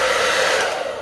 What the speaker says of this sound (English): now I'm gonna turn on my hairdryer